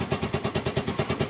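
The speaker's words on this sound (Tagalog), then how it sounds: "Activate ko muna yung engine, then press yung start button." A motorcycle engine started remotely through a homemade alarm system, running at a steady, rhythmic idle with even pulsing beats, close and fairly loud, no talk over it.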